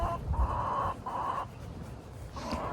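Chickens cluck in short repeated bursts, three distinct rounds of fairly close, moderately loud calls separated by brief pauses, with no talking.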